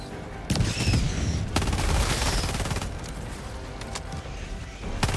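Helldivers 2 gunfire against bug enemies, loud sustained bursts of rapid automatic fire with sharp individual shots, set against a dense, noisy battle background.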